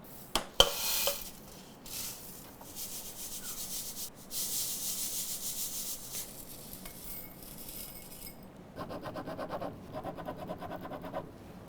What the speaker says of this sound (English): I'm going to sift these just to get rid of teeny tiny particles